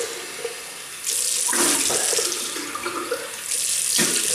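A water tap runs at a sink while someone rinses off after a wet shave, a close, steady gush with splashing bursts as hands and water move.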